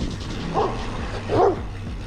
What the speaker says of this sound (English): Someone out here with a dog.